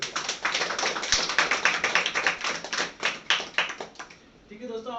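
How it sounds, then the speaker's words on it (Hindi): A small group claps together in a room for about four seconds, with crisp, close, rapid hand claps. The clapping fades out and a voice begins speaking. "अपने अपने के लिए एक बार तालियां बजाइए"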